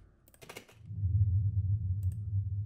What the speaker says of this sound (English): That's a nice drone, actually.